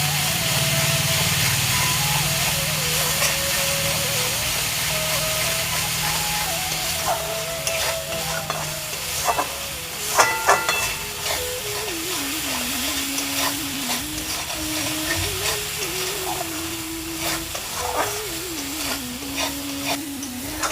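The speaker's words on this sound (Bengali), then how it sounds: "এবার কিছুক্ষণ মশলাটাকে কষিয়ে নিব আর একটু সময়।" Spice paste of turmeric, cumin powder and chili powder cooking down in a pan for an egg curry with whole onions: a close, steady sizzle broken by repeated scraping and stirring strokes.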